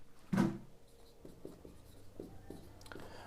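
Chalk taps and scratches on a board during a maths lesson, a sharp knock followed by a series of faint, short strokes, close and quiet.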